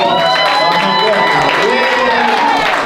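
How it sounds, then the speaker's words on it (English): A crowd claps and cheers steadily and loudly throughout, a dense wash of applause with whoops mixed in. "Let's give her a nice round of applause."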